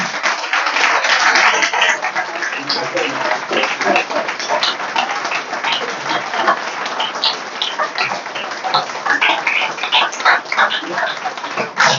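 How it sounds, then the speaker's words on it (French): A large audience at a political gathering in Côte d'Ivoire applauds steadily for the whole stretch, sustained dense clapping with some cheering mixed in and no pause. "J'ai dit que vous pouvez vous applaudir."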